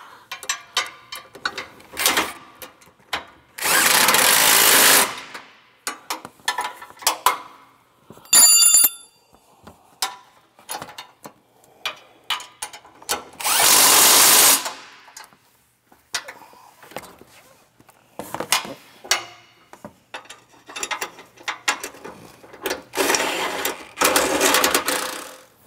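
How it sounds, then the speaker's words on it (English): A power tool tightens down fittings on a PSX1 electric stabilizer, with loud repeated whirring and ratcheting bursts separated by short pauses, several long sustained runs, and no talk. "Now we're simply going to come in here and we're going to tighten all these down."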